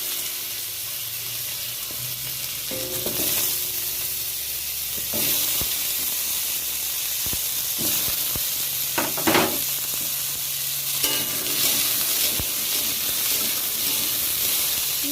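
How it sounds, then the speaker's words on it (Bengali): Potatoes fry in a pan of hot oil spiced with dried red chillies, giving a steady, close sizzle with occasional louder crackles and stirring scrapes throughout, without any talk. "আলুগুলো ভেজে নেব ভালো করে"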